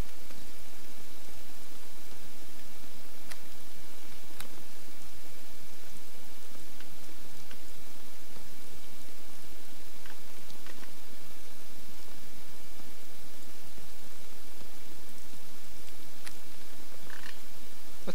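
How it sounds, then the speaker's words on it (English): Steady, dense rain falls in the game Darkness over Daggerford, a constant hiss of drops with occasional sharper taps, heard alone and fairly loud for the whole stretch. "I also like this rain noise, it's nice."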